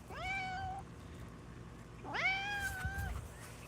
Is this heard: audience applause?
no